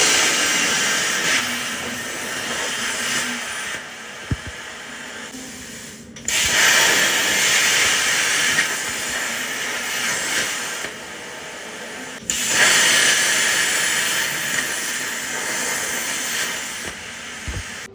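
A CNC plasma table cuts steel doublers for a Chevrolet C10 custom 4-link build, giving a loud, steady hiss that breaks off briefly twice before starting again.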